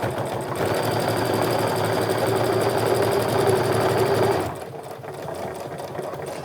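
A sewing machine runs fast and steady, stitching a tote bag seam with a dense, even mechanical whir, then slows to a lighter, quieter run toward the end.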